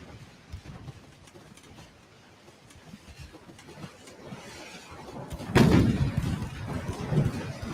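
Naval ship guns firing in the naval battle game Ultimate Admiral: Dreadnoughts: distant low booms and rumbles, with one loud heavy blast midway followed by a rolling rumble, some faint thuds before it.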